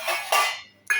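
Steel kitchen utensils clink together in a few quick metallic rings, close and bright, with short ringing tails between the hits.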